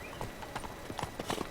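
The horse Roach gallops in the video game Witcher 3: Blood and Wine, with rapid rhythmic hoofbeats in quick clusters, fairly faint and steady, with no talk.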